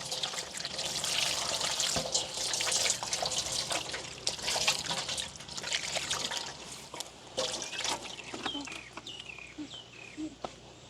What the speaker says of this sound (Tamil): இப்போ நல்ல வடிவாக கழுவி எடுப்போம் நாங்கள்